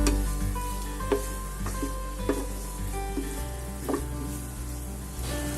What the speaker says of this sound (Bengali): মাছটা একটু নেড়ে নেব, ভালো করে মিক্স করে নেব।